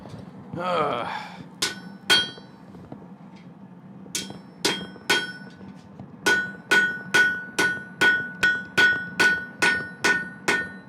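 Sharp hammer strikes ring out in a quiet shop, starting as scattered single blows and then settling into a fast, even run of a dozen or so close, loud metallic hits.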